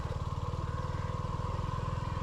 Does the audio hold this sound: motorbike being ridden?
yes